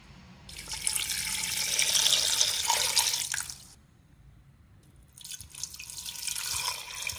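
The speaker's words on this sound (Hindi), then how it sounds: "अब इसमें पानी डालूंगी।" Water pours and splashes into a pressure cooker holding beef yakhni ingredients, a steady rushing stream that pauses briefly midway, then resumes just as loud.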